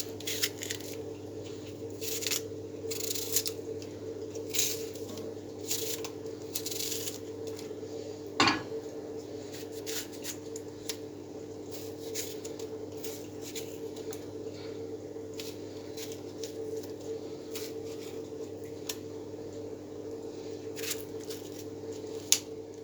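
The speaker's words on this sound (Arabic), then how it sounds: "واقطع البصل كده" A knife chopping onion on a board in a home kitchen while cooking yellow lentils, heard as irregular light cutting taps and squishy slices over a steady low hum, with one sharper knock partway through.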